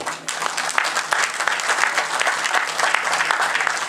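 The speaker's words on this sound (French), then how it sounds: "On peut l'applaudir." An audience at a political gathering applauds a welcomed party delegation, dense continuous clapping filling the hall with a faint hum underneath.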